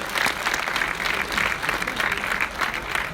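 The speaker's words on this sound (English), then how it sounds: "Applaud from the crowd." A crowd applauds at the 2017 Pokémon Oceania International VGC Masters final, giving loud, steady clapping that holds for several seconds with a slight pulsing swell.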